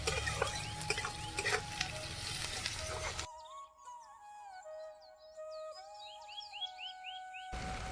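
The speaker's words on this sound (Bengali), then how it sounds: "পেঁয়াজটা লাল লাল করে ভেজে নেবো ভালো করে" Salted onion fries and is stirred in a pan for a Jharkhandi chicken curry, giving a close, steady sizzle with scraping for about three seconds before cutting to high chirping tones, with no talking.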